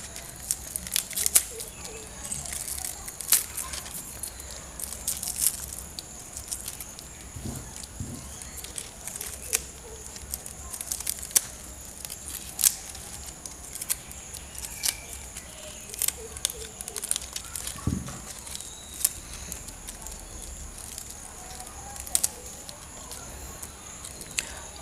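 Small leaves are pulled off a pineapple top, giving soft, close crinkling and tearing snaps in scattered bursts over a quiet background.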